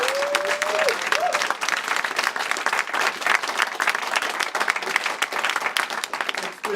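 Crowd applause at a 2017 town hall meeting, continuous dense clapping throughout, with a short whistle near the start and some voices mixed in.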